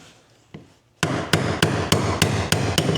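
Hammer blows on a crusty, seized part of a 1995 Honda XR250L motorcycle: a faint early tap, then a steady series of about seven loud, close, evenly spaced metallic strikes.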